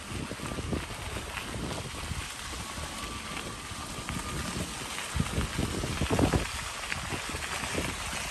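Rain falls outdoors in a park beside a train station during a coastal e-bike ride, a constant hiss mixed with gusty wind noise buffeting the microphone and a few heavier bumps.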